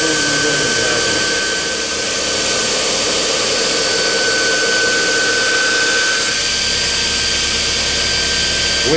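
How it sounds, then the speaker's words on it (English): A Damascus steel knife blade is ground on a grinder, making a loud, steady whir and rasp with a high whine, shifting slightly in tone near the end. "that's how you get that nice grind that follows the line of the knife"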